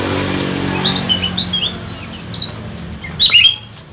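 Magpie robin (kacer) calling in short scattered chirps and whistles over a low background hum, ending in a louder burst of sharp notes near the end.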